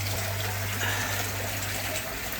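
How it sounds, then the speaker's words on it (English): Water rushing steadily into an aquarium during a water change, a continuous broadband gush over a low steady hum, close and even, with no talking. "I'm giving this a good water change now."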